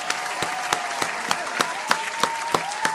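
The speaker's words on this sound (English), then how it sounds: "Round of applause." Clapping during a mental health discussion show: sharp, evenly spaced claps repeat about every third of a second over a steady background hum, sounding like a small group rather than a large crowd.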